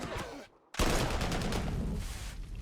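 Grenadier infantry open fire in the strategy game Panzer Corps 2 after a short hush, a dense fusillade of overlapping gunshots rolling on steadily, loud and continuous.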